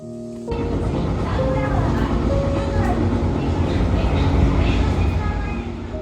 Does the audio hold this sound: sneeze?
no